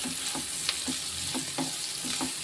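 Onion and crushed garlic fry in a pan with a steady close sizzle while a spoon stirs them, scraping in an irregular rhythm of soft strokes.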